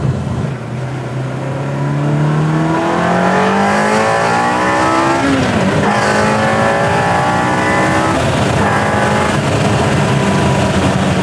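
A 1999 Ferrari 360 engine revs hard and climbs through several gears, loud and close, with rising pitch sweeps and brief dips at each shift.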